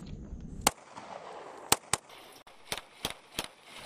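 Rapid gunfire in a military shooting drill: sharp, separate cracks come in quick succession, several spaced across a few seconds. They sound moderately close and stand alone without talk.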